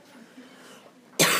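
A single sharp, loud cough bursts out at the very end, after a stretch of quiet room tone, from a person giving a chemistry lesson.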